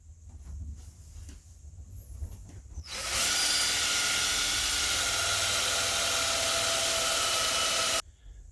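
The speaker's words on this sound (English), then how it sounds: "that's what I got to start drilling these" A power drill bores into a wooden door for a mortise handle installation, starting after a quiet stretch with a steady loud whine that runs for about five seconds, then stops abruptly.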